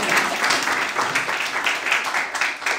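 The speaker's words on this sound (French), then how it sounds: "On peut applaudir pour ce moment béni." A church congregation applauds to welcome new visitors at a Sunday service, a busy, even wash of many people clapping that carries on steadily for about three seconds without a break.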